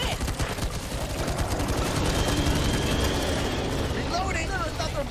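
Zombie-shooter gunfire from Back 4 Blood crackles in rapid bursts, dense and continuous over a busy game mix, with a voice talking faintly underneath.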